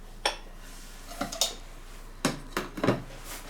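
A metal lid goes onto a cooking pot of radish and pork rib stew with a few light clinks and clatters. These short, close knocks are spread across a few seconds in a quiet kitchen.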